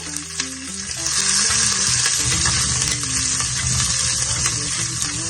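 Chili and curry leaves crackle and sizzle loudly in hot oil in a pan for cabbage thoran, a dense continuous fry over faint background music.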